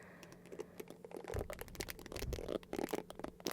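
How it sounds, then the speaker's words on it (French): Soft brushing strokes mixed with quick irregular tapping, close and intimate with a crackly texture like light rain, continuing steadily and building slightly toward the end, no voices. "Comme il y a le son de la brosse plus le tapping."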